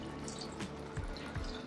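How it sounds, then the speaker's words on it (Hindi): Hot water poured into a pan of elephant foot yam (suran) curry with cooked masala, making a few short splashy gurgles and trickles at close range over a steady low background hiss, with no talking. "इसमें गर्म पानी मिलाऊंगा"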